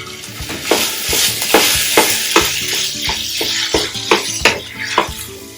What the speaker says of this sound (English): I'm going to add the hot sausage to the